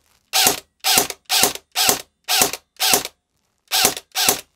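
A battery-powered Venator electric airgun cycles its mechanism with no magazine fitted, producing eight sharp, loud mechanical whirring bursts. Six come in quick regular succession, then a short pause, then two more.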